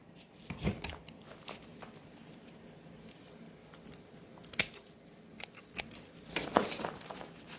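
Dry snipping and crinkling as the neck is cut off a dried head, a series of close, sharp clips and papery rustles scattered irregularly over several seconds with no talking.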